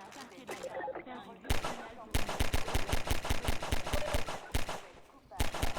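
Rapid bursts of automatic gunfire in the video game Half-Life 2, loud rhythmic volleys of shots broken by short pauses, with game sounds between the bursts.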